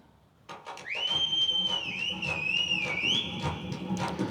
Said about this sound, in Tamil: எனக்கு பீட் வேணாம், அந்த விசில் மட்டும்தான் எனக்கு வேணும்